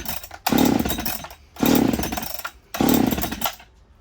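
A Husqvarna chainsaw that will not start is pull-started three times, each yank producing a loud, rough ratcheting burst of about a second with short pauses between, and the engine never catches.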